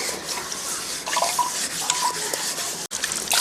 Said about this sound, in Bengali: এখন আমি চেপে চেপে জলটা বার করে নেব ছানা থেকে